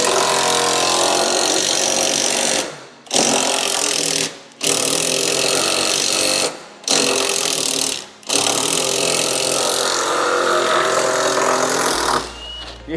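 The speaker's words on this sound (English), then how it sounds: "Power tools are the way forward, aren't they?" A power tool runs in loud sustained bursts while fitting a Whiteline suspension upgrade to a track-built Mini JCW, cutting off four times with short pauses before spinning up again.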